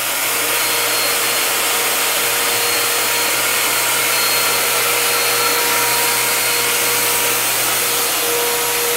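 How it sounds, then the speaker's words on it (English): Electric disinfectant fogging machine spraying fog, a steady loud hissing, whooshing blower noise with a faint whine, continuous and close with no talk. "you can adjust the amount of fog as necessary in here"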